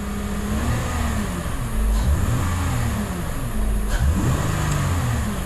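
A car engine revs under the throttle after an intake valve carbon cleaning, running smoothly at a loud, close idle and rising in two clear rev swells about two seconds apart before settling back.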